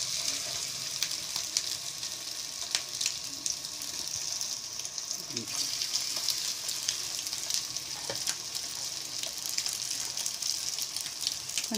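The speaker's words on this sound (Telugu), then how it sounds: "ఇదిగోండి ఫిష్ వేసుకోవాలండి. ఇలాగ ఫిష్ వేసుకున్నామండి" Fish frying in hot oil in a home kitchen, a steady bright sizzle and crackle running throughout, close and continuous with a few small clinks.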